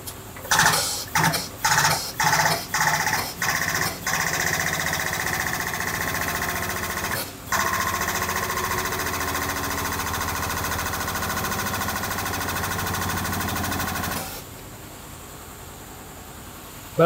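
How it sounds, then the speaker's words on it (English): Wheel studs pressed into a 1966 GMC rear axle flange through a tube, a quick series of sharp loud bangs and clanks followed by a steady mechanical whir that cuts off abruptly. "we're gonna press these studs in"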